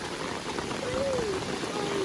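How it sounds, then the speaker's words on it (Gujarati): Heavy rain pours outside a house as a dense, steady hiss of falling water, with a voice speaking over it. "કેટલો વરસાદ આવે છે"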